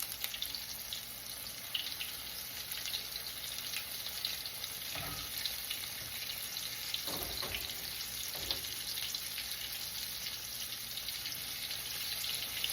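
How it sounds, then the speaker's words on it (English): Chicken tenders sizzle as they fry in hot oil in a pan, for Nashville hot chicken sandwiches, a steady close hiss that runs throughout with a few brief louder crackles and no talking. "I'm going to be quiet for a minute so you can hear this yummy sizzle that's happening."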